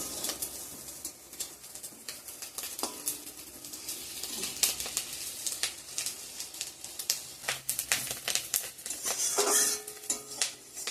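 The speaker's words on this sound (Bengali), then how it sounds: "ডিমগুলো এদিকে ভাজছি বন্ধুরা" Fish roe frying in a pan with oil crackling and sizzling, mixed with clinks of metal utensils against the pan and scattered sharp clatters, moderately close and steady with no talking.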